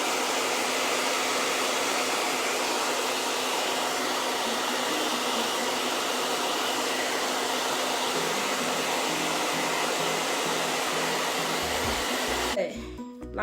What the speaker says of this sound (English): This dryer has been through, but it still works.